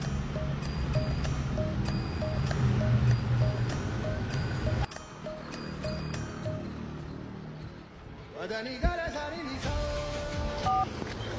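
Short electronic telephone dialing beeps sound in quick, evenly spaced groups as a call is placed, followed later by a few more tones over rustling and background noise.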